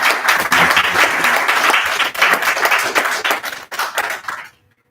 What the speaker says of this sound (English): So can you give her a round of applause and she can tell us what she does.